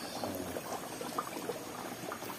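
Hot cooking oil bubbles and seethes steadily in a large pot of bagnet, a dense continuous crackling boil close by that is nearly rising to overflow.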